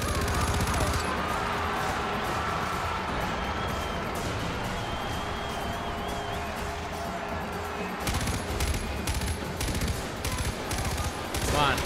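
Rapid gunfire rattles in the video game Far Cry 4, dense bursts of automatic shots that carry on nearly throughout and grow sharper near the end, with a voice talking at times.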